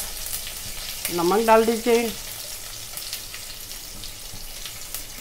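Curry leaves and green chillies fry in hot oil in a pan with a steady close sizzle, while someone speaks briefly over it.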